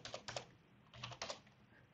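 Close, quiet computer keyboard typing during Python test-automation coding: a few quick clusters of key clicks separated by short pauses, with no voices.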